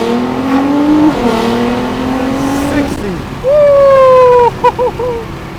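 A V6, V8 or V10 sports car such as a GTR, AMG or R8 launches hard from 0 to 60 at high RPM. The engine screams loud and rising through the gears, with sharp pitch drops at each shift and a brief final rev.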